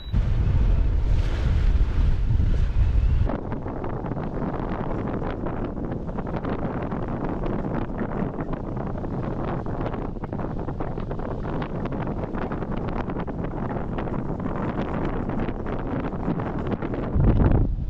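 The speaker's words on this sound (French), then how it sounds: "on voit qu'il y a de grosses risées qui se pointent" Strong wind gusts buffeting a sailboat under sail in the British Virgin Islands; a loud, steady roar of wind across the microphone with rushing water beneath, continuous throughout, with no talking.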